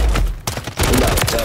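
Gunfire in Call of Duty MWIII on Rebirth Island from a Striker 9, loud rapid bursts of shots with a brief gap between volleys, close and dominant.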